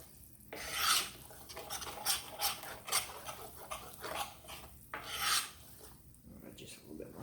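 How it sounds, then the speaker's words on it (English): A utensil rasps and scrapes through lumpy gravy in a pan as lumps are mashed out, repeated rhythmic rubbing strokes at close range, fairly soft, with brief pauses between strokes. "And you want to mush it down, try to get as many lumps out as possible."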